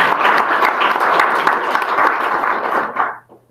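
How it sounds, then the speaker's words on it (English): An audience at a hackathon's final presentations applauds two team members, with broad, dense clapping that holds steadily for about three seconds before cutting off abruptly. "So round of applause for these 2"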